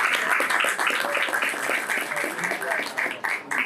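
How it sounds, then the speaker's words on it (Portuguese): Crowd at a political party event applauding, a dense continuous roar of clapping with scattered voices and cheers mixed in, loud and sustained. "Aplausos para o Oswaldir"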